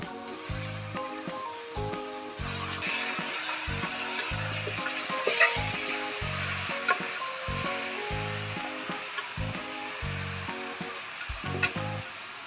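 Chicken frying in a pan, a continuous close sizzle and hiss with occasional stirring scrapes, over a steady rhythmic low thumping pattern in the background.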